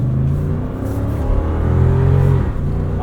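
A Lexus GX 460 V8 engine accelerates from inside the cabin with a loud, steady low rumble that rises slightly in pitch over a few seconds, with no talking.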